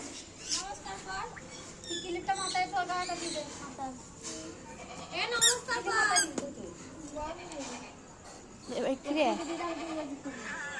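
A voice imitates a goat's bleat several times, with wavering, nasal calls close by, mixed with other voices and high squeaky sounds.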